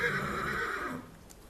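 A mare whinnies once, a bright shrill neigh that trails off after about a second, heard nearby with quiet surroundings afterward.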